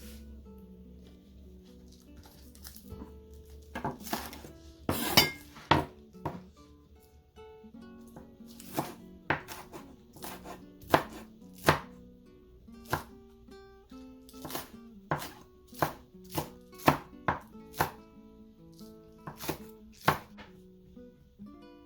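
A knife chops an onion on a cutting board in irregular, crisp thuds, sparse at first and then a quicker, uneven run of close, distinct strikes with quiet gaps between.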